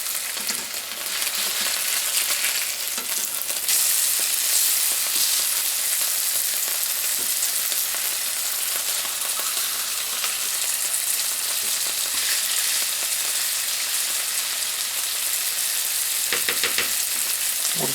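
Sea trout fillets fry in a pan with a steady, loud, bright sizzle that runs unbroken throughout, with faint occasional clinks near the end.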